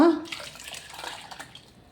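Water poured into a pan of chicken red chilli curry, a short splashing pour that quickly fades to a soft trickle.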